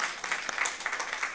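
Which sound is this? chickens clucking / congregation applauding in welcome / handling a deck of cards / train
congregation applauding in welcome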